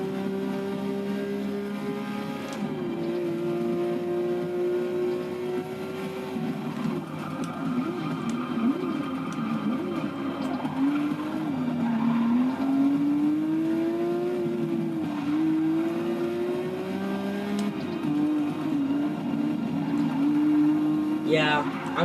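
Porsche race car in Forza 6 revving hard, its steady engine drone rising and falling in pitch through gear changes for over twenty seconds, loud and close, with game sounds layered over it.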